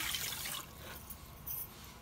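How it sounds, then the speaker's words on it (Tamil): Water poured from a cup onto washed jeera samba rice in a bowl, a soft splashing pour that is strongest at the start, eases off, then swells briefly again near the end, close and fairly quiet with no talk. "தண்ணி விடலாம்"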